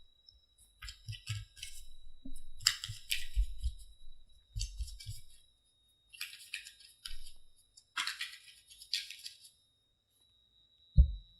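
Tarot cards shuffled by hand up close, in repeated bursts of riffling, flicking and soft slapping, with brief pauses between handfuls and a low thump near the end, with no talking.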